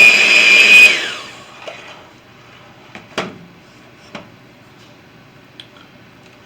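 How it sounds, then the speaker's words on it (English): A blender whirs loudly through a sweet potato casserole mixture for about a second, then winds down, followed by a few faint clicks and taps in a quiet room. "I'm going to blend the mixture together for a couple minutes."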